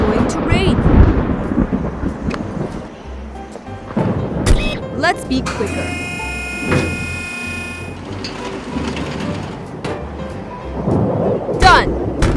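Cartoon thunder rumbling through a thunderstorm, deep rolling booms mixed with a loud sustained mechanical clatter and tones, with voices speaking over parts of it.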